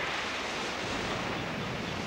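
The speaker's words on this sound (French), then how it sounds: "Le bateau bondit sur les vagues." Ocean waves in a cartoon sea scene where a sailboat bounds over the swell make a continuous, full roar of surf and wind that stays loud and even, with no voices.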